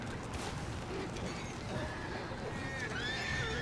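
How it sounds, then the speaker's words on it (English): Horses neigh and whinny in Red Dead Redemption 2, with shrill rising cries near the end over a steady dense backdrop of game ambience and faint hoof clatter. "These horses are going insane."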